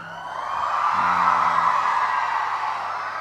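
A crowd of children shouts and cheers at the national Festival Tunas Bahasa Ibu 2024. A loud, sustained roar of many young voices swells and holds throughout, with a brief low tone in the middle.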